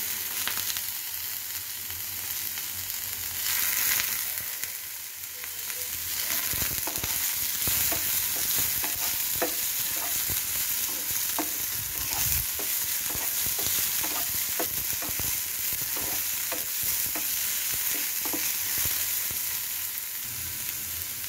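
Yellow and red capsicum stir-fried for mixed vegetable rice, a continuous loud sizzle with repeated scraping and clacking of the spatula against the pan, close up and steady for the whole stretch, no voices.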